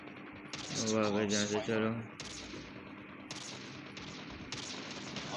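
Sustained automatic gunfire in Call of Duty, a steady, dense stream of shots rattling on for several seconds, fairly soft in the mix while a player talks over it.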